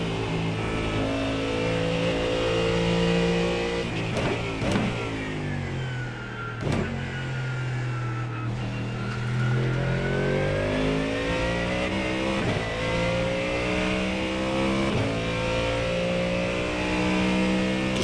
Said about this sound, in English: Just feels like it holds on to its revs a little too long.